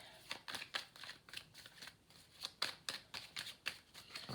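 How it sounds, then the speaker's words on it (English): Tarot cards being shuffled in quick riffling bursts, a steady run of crisp papery flutters and snaps, close by with no talking. "I'm just doing a little bit more shuffling on camera"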